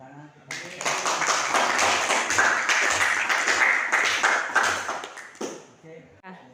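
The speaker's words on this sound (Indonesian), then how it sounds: "Oke, tepuk tangan." Children in a classroom clap together in a loud, sustained burst of applause lasting about five seconds before it stops abruptly.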